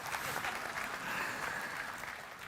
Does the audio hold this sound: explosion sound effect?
no